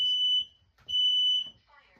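Household smoke and carbon monoxide detector sounding during a system test: two loud, piercing high-pitched beeps, each about half a second long, with quiet gaps and faint background noise between them.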